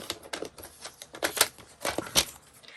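Tim Holtz paper being cut into scraps for ephemera: a quick, uneven run of crisp clicks and snips, moderately close, with no talking.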